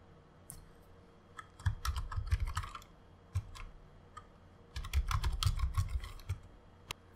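Computer keyboard typing while jQuery code is written, coming in two busy bursts of quick, close key clicks separated by quieter gaps and a few isolated taps.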